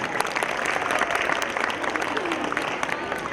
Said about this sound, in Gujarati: જોરદાર તાળીઓ થવી જોઈએ.